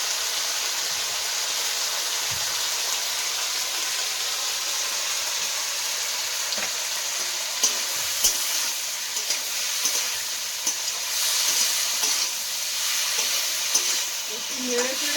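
Bay leaves and Kashmiri chili frying in oil in a pan, a steady close sizzle with occasional soft scrapes and knocks of stirring, continuous throughout.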